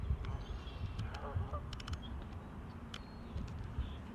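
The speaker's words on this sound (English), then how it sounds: "Get some shots of these geese here." Geese honk at a pond in faint, scattered calls over steady low outdoor rumble, spaced irregularly and heard from a distance.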